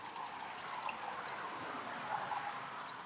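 Running water trickling and pouring steadily as small fossil pieces are rinsed, a continuous close splashy stream with no voices.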